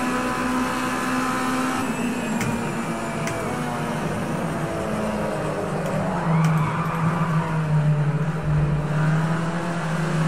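Race car engine in the Project CARS 2 racing game at Snetterton, a steady loud drone with pitch rising and falling through gear changes, running continuously with no talk.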